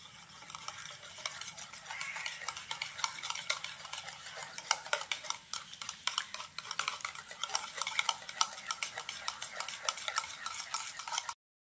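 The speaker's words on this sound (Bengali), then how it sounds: "আর তালের পাল্পটা দিয়ে আবারও ভালো করে সব কিছুকে একসঙ্গে হ্যান্ড হুইস্কের সাহায্যে মিশিয়ে নিচ্ছি।" A hand whisk mixes palm pulp batter in a bowl, making rapid, close, rhythmic scraping and tapping against the sides at a fairly soft, even level.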